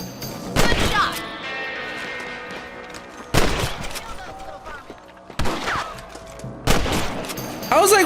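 Rifle shots in Red Dead Redemption, several loud sharp cracks spaced a couple of seconds apart, each one echoing, over game music and people talking.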